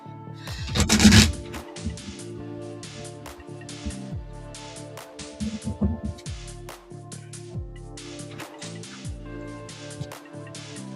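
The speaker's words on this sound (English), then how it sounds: "let me get a better shuffle" Cards riffle and slap together in a quick flurry, then softer rhythmic shuffling taps continue over a quiet sustained musical drone.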